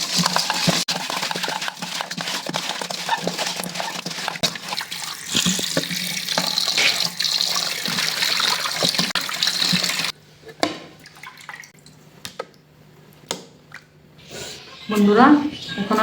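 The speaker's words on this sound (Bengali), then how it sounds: "বন্ধুরা, এখন আমি লবণ দিয়ে ভালো করে ধুয়ে নিব।" Fish pieces being washed with salt under a running tap: a steady rush of water for about ten seconds, then quieter splashing and handling with brief rinsing spurts near the end.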